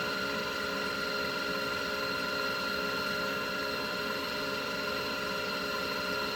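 Electric mixer whipping egg whites and sugar at higher speed for a tres leches cake, a steady, even motor whir with a constant tone running throughout with no talk over it.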